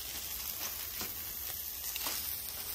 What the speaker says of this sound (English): now I'm just sitting here cooking up some venison sausage for him